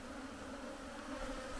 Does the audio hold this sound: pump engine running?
no